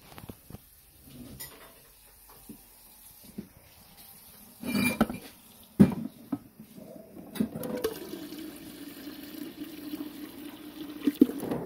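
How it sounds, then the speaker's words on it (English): Filtered water pours into a half-gallon kombucha jar, a steady filling stream rising from about the eighth second after scattered kitchen clatter and knocks. "So then I'll fill that up the rest of the way with filtered water."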